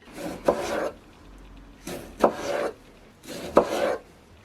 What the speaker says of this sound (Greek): Τις κόβουμε λεπτές για να μην βγάλουν πολλά ζουμιά μετά.